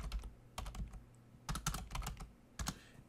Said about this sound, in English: let's clear this and type ifconfig